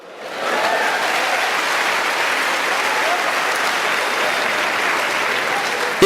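A church congregation breaks into applause, a dense and sustained roar of many hands clapping that swells in quickly and holds steady and loud to the end.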